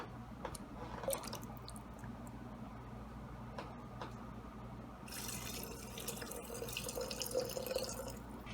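Hot tap water from a sink poured into a jar of chicken soup with celery and carrots for canning, a faint steady trickle and splash with occasional clinks, rising slightly toward the end.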